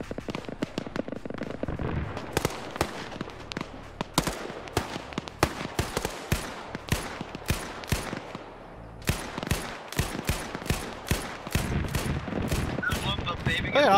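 Video game gunfire fills the scene with dense, loud volleys of shots and rapid bursts, nearly continuous with brief lulls, as a voice talks over it.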